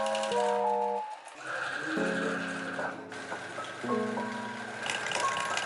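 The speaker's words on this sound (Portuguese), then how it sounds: "Vou passar toda a costura e mostro para vocês como a gente faz o próximo passo." A sewing machine stitches the seams of a kitchen apron, giving a close, steady motor whir whose pitch shifts in steps as the speed changes, with faint voices underneath.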